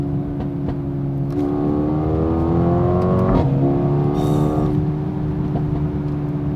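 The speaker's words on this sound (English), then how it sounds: "Love that exhaust note." A Mercedes-AMG A35 hot hatch's small four-cylinder exhaust note, loud and close, revving up with a rising drone, briefly crackling on overrun, then settling back to a steady hum.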